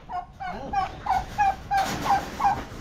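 Turkeys on a farm gobble in a quick series of about eight sharp, rhythmic calls, close and fairly loud, with no talking over them.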